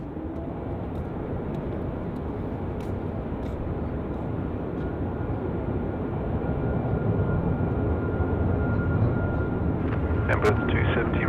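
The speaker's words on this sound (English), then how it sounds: "Two 787s just racing." Two Boeing 787 airliners departing Sydney Airport side by side, a steady broad jet roar that builds slightly toward the end, heard from a distance with faint background chatter.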